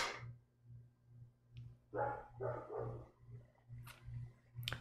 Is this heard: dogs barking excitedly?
yes